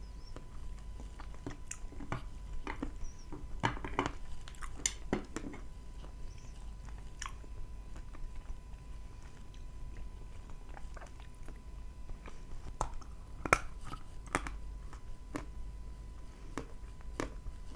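Someone bites into and chews Astana Ideal close up, producing scattered soft crunches and clicks in irregular bursts over a quiet background, with no talking.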